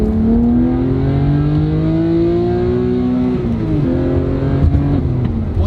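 A modded BMW 328i engine revs hard past redline, its tone climbing steadily and then dipping and rising again as gears change, loud and close, with no talking.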